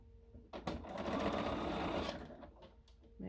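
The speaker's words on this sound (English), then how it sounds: "And sew that seam." A sewing machine stitches a quilt block seam for a rail fence block, a steady mechanical whir of about one and a half seconds. Short handling clicks come before and after it.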